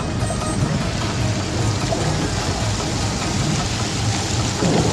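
Dense, steady rainfall hissing and pattering continuously throughout, loud and close, with no voices.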